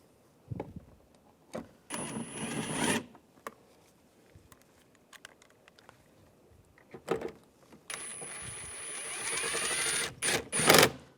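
Screws driven into a Buick Enclave master window switch with a power driver, two bursts of whirring driver motor plus scattered clicks and handling noises of small parts, close and clear.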